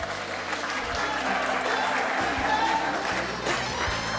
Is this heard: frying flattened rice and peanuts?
no